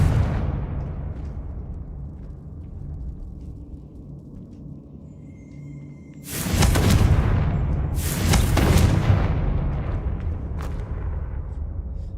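A Confringo fire spell in the Hogwarts Legacy video game bursts into two loud, close explosions in quick succession, breaking a quiet stretch of low rumbling ambience and leaving a rolling decay.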